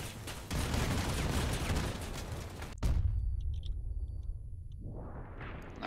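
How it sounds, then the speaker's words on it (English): Vehicle-mounted guns fire in the Crossout combat game: a dense, loud burst of rapid gunfire, then a heavy boom followed by a fading rumble and a second rising blast. "Let's help the melee unit shooting off those guns."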